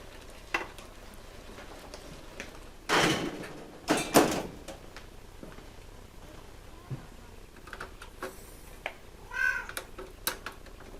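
A pet cat meows a few times in a home kitchen while a one-pot spaghetti dinner cooks, the calls sharp and fairly close over faint background clatter and soft room noise.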